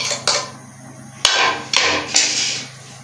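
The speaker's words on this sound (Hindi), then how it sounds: "इन सब चीज़ों को अच्छी तरह से तकरीबन 2 से 3 मिनट हम इसको अच्छी तरह से मैश करेंगे" Fresh coriander, garlic and salt are pounded in a mortar for green chutney, giving four separate dull, heavy thuds with short gaps between them, close up and with no talking.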